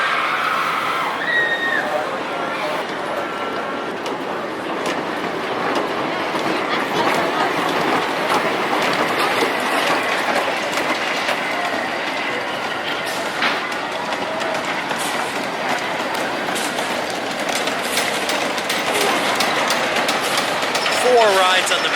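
The rebuilt Mighty Canadian Minebuster roller coaster train rumbles and clatters along its track in a steady, loud roar throughout, with voices faint in the background.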